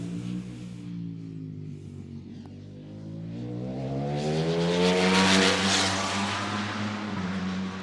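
A motorcycle passes by on a road, its engine note rising and growing louder as it approaches, peaking with a roar, then holding a steady drone.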